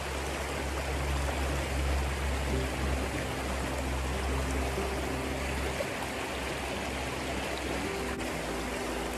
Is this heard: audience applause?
no